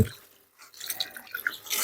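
Dried red chillies swished back and forth in a bucket of water, making close, light splashes and drips, with a short quiet gap before a burst of sloshing.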